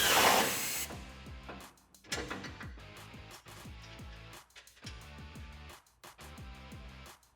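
A 14mm socket on a ratchet tightens nuts onto factory studs while a stainless steel bull bar with skid plate is fitted to a 2016-2019 Toyota Tacoma, giving repeated rapid clicking bursts close up, with short pauses between runs.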